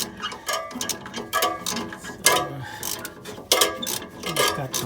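A ratchet tightens the exhaust gasket bolts on a second-generation Toyota Prius, giving a close, irregular series of metallic clicking strokes with short pauses between bursts.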